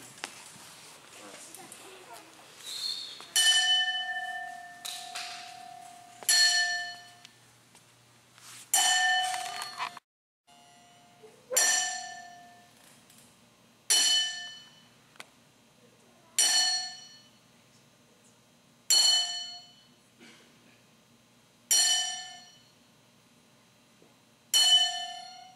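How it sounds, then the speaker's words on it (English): A single bell rings out ten slow, evenly spaced strikes for a ten bell salute at a wrestling tribute event, each chime clear and ringing before fading into near silence. "please bow your head for the 10 bell salute"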